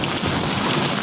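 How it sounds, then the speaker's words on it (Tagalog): Heavy rain pours down in a dense, steady roar, loud and continuous with no pauses. "Lumakas ang ulan"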